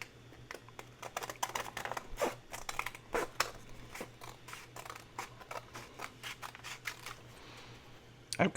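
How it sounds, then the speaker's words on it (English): Repeated crisp snips of scissors cutting paper, irregular and close, with short pauses between cuts and a faint steady hum underneath. "how many of you love the sound of scissors cutting paper"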